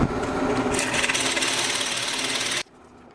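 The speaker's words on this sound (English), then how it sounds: "look at that masterful use of the drill press" A steady, grinding whir of a drill press boring into wood for a handsaw handle runs for a few seconds, then cuts off abruptly into quiet.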